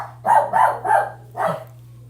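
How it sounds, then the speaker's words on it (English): A dog barks four times in quick succession, loud and close, over a steady low electrical hum, with no talking. "No bark, Mobs."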